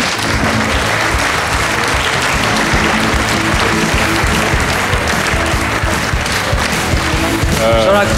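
Audience applause at a studio club show, steady dense clapping sustained throughout with a noisy crowd wash and voices mixed in underneath.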